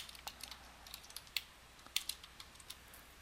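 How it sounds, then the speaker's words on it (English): Computer keyboard keys clicked in a quick, uneven run of sharp taps, close and fairly quiet against a near-silent background with no voices. "So I'm going to type that in,"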